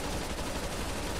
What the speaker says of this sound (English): Dude, he's shooting through the wall!